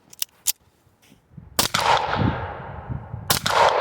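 An Ermox X-Pro T shotgun fires slugs outdoors: a couple of faint sharp reports, then two loud close blasts about two seconds apart, each trailing a long echo.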